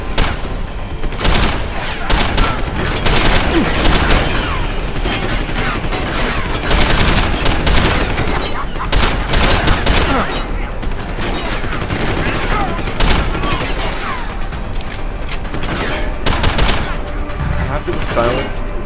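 Rapid gunfire in the video game Deus Ex: Human Revolution, dense bursts of automatic shots and impacts filling the whole stretch with little pause, loud and continuous.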